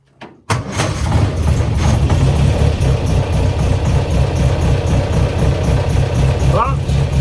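A classic car engine, started after 48 years off the road, fires up abruptly after a brief quiet moment and settles into a loud, rough, low idle, with a voice heard at the start.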